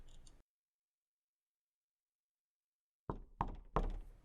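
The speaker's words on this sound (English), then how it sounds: "The sound of footsteps and the rattle of a knob." Footsteps and the rattle of a door knob in the horror RPG Fleshport: a brief scuffle, then silence, then three heavy, close knocking thumps in quick succession.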